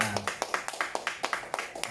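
Audience applause at a live stage event, a short burst of quick, fairly close handclaps with a voice speaking over them.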